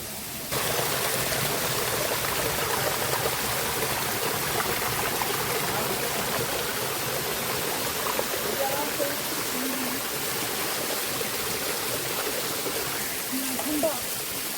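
A waterfall and stream at Mal Pudana in Sri Lanka rush in a dense, steady roar that fills the whole scene and stays constant throughout, with faint voices buried underneath.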